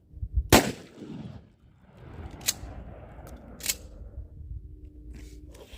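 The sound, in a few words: shotgun firing, Mossberg Shockwave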